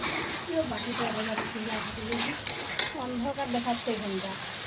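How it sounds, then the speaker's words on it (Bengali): Chicken being stirred and cooked down in a pan, a steady sizzle under repeated scraping and clinking of a utensil against the metal, close and moderately loud, with a voice talking in the background. "এই দেখুন আবারও নাড়াচাড়া করে রান্না করে নিচ্ছি।"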